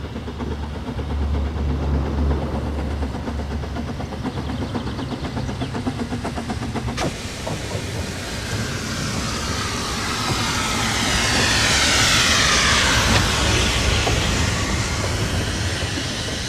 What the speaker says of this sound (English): We now return to the Festinio Railway for a short trip to Minford and nearby Port Merion.